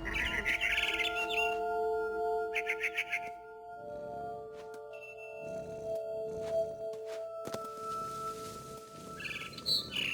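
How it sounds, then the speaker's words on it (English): A barn swallow chirps outside a window in the video game What Remains of Edith Finch, bursts of bright twittering calls repeating over a sustained musical drone and soft ambient tones. "I heard chirping outside my window. It was a barn swallow going back to her nest."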